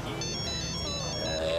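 A mobile phone ringtone plays at home, a steady melodic electronic tone repeating with bright high notes, fairly loud and close, with voices and room noise underneath.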